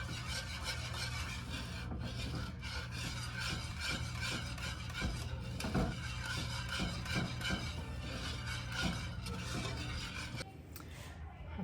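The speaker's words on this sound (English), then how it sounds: "I'll whisk this all together" Gravy is whisked in a pan for chicken fried steak, a steady scraping, rasping rhythm of the whisk against the metal that keeps going close up for about ten seconds, then stops abruptly, with no talk.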